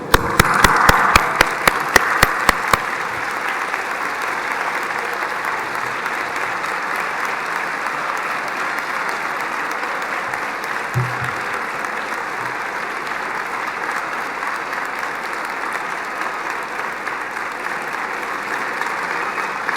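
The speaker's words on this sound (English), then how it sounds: "Stand up and give them a huge thank you, a round of applause." Large audience standing to applaud at a Glasgow college winter graduation ceremony, a few sharp distinct claps at first, then long continuous loud applause filling the hall with a faint murmur of crowd underneath.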